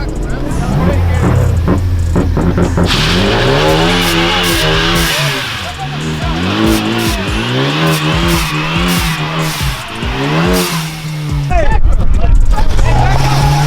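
A car engine at an H2Oi 2019 car event in Ocean City revs hard and roars, close and loud, under a buzz of crowd chatter and shouting; a distinct tire squeal is not clearly evident.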